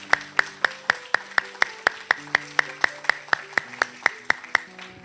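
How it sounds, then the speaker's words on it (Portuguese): Steady, regular clapping from a church congregation, crisp evenly spaced claps with a faint sustained tone underneath, no talking. "Você pode dar um lindo aplauso ao Senhor Jesus pela leitura da sua palavra."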